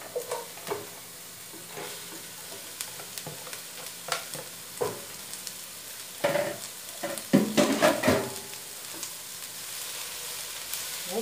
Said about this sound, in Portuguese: Vou refogar o repolho.